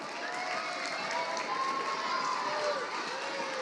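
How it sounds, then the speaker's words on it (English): A crowd gives a round of applause for the Central group at a school-style event, dense and steady throughout, with cheering and shouts mixed into the clapping. "Round of applause for Central."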